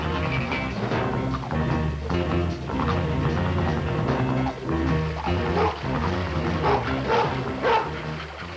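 A dog barks repeatedly in an old 16mm toy commercial for a river raft set, with short yips and bow-wows over a busy music bed throughout.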